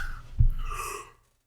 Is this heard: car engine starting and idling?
no